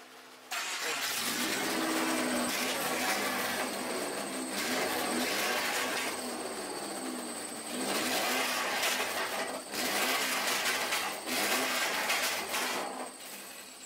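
Turbocharged Subaru EJ22 engine with a new uppipe, downpipe and intercooler starts up and runs loud and close, a steady raspy roar with slight swells in revs throughout, no talking over it.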